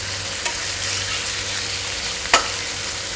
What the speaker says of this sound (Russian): Говядина жарится буквально 2-3 минуты.